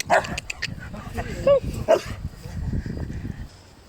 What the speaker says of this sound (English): Just going past another dog.